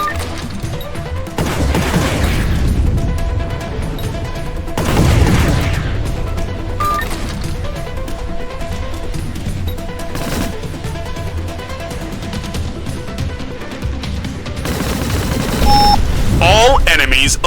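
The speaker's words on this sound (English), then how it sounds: "All weapons, fire at will!" Space battle weapons firing in the video game Nimbus INFINITY, a dense, continuous barrage of bursts and booms layered over a loud game soundtrack, with heavier blasts near the start and end.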